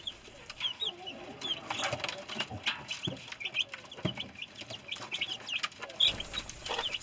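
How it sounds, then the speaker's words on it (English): Mother hen in a coop calling to her chicks, soft repeated clucks with faint high peeping from the chicks, a continuous busy farmyard chatter at moderate level with scattered rustling. "The mother communicates with her little chicks and they respond to her calls."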